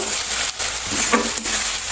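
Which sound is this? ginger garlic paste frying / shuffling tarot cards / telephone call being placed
ginger garlic paste frying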